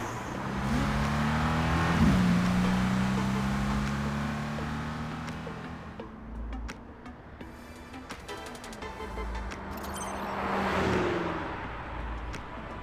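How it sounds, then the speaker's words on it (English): A game car's engine drones and accelerates steadily up through its revs, fading slightly mid-way before surging again, with no other sounds over it. "I need to step on the gas."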